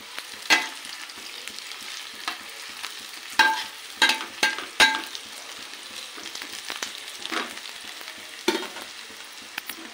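Masala for Telangana-style fish fry roasts in a pan, giving a soft continuous sizzle broken by sharp scraping stirs at irregular intervals.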